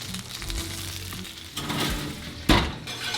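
Chicken frying in a pan with a continuous soft sizzle, broken by a few clunks and scrapes of turning the pieces, one sharper knock near the end.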